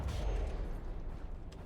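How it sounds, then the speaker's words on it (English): A big explosion in the naval combat game From the Depths, a dull low boom with a rumbling tail, fairly faint and heard alone. "Big explosion, was that one of ours?"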